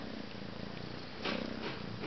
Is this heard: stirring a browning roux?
no